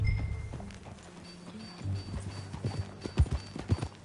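Horse hooves clip-clop at a walk in Red Dead Redemption 2, soft and fairly near, with irregular thuds growing more distinct toward the end.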